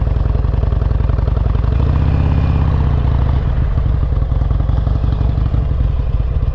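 Harley-Davidson XL883L Superlow motorcycle creeping along at the clutch friction point, its V-twin engine thumping loud and close in a steady low rumble throughout.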